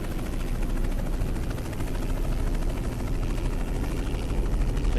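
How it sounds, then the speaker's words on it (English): Helicopter flying overhead in American Truck Simulator, a loud, steady rotor drone with a dense, continuous rumble and no voices. "There's a helicopter above me and there's a helicopter over there. Or maybe it's just that one over there that's super loud."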